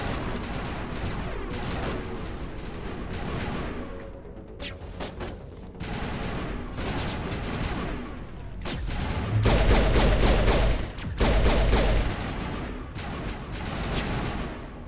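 Pistol gunfire in the video game Mass Effect, rapid repeated shots in clustered bursts amid other combat sounds and impacts, fairly loud and continuous with a couple of heavier thuds near the end, no talk.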